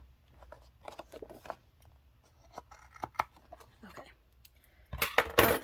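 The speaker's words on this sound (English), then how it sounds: "find my scissors, trim off the stems of these that I didn't need" Scissors snipping flower stems at a desk, several soft, sparse clicks and cuts close by, then a louder burst of rustling and crisp snips at the end.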